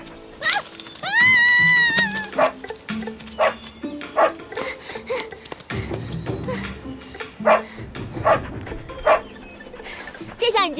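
A small dog barks and yips repeatedly in a costume drama scene. Sharp barks come in an irregular series, with a brief whine near the start, and voices talk around them.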